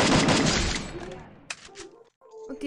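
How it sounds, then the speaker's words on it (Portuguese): Gunfire in the Free Fire video game, starting as a dense burst of rapid shots that fades, then a few isolated cracks, with players chatting faintly. "o tiro passou raspando minha cabeça"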